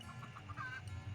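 Soft, repeated clucking from chickens over a steady low background hum, faint and somewhat distant.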